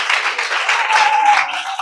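Schoolchildren clap together at a malaria awareness event at a basic school, a dense, steady patter of many small hands held close and loud for about two seconds.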